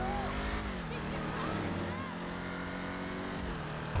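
Dominator ASP muscle car driving in GTA V Online, a loud continuous engine roar with rising and falling gear tones, close and steady throughout.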